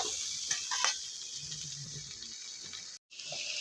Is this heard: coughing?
no